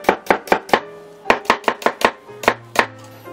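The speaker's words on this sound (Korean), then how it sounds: "양파는 채를 썰어서 준비를 하겠습니다" A knife cuts an onion into thin strips on a board, about a dozen crisp, sharp chops in an uneven rhythm, close and clear with no talking.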